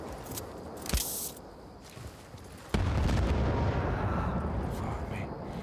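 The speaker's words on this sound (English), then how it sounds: "the house is just blowing up as soon as I walk in it" Rocket blasts tear through a house in Battlefield: Bad Company, with a sharp burst near the start and then a sudden loud, rumbling explosion that keeps roaring under continuing gunfire to the end.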